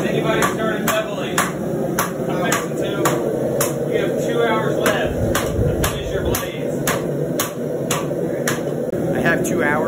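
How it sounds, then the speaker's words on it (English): Hammer forging steel for knife making, with sharp, evenly spaced metallic blows ringing out one after another over the hum of a forge or fan, while people talk beneath the strikes. "you got to just hammer as much as you can until the steel gets cold."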